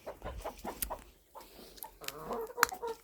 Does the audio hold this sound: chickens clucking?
yes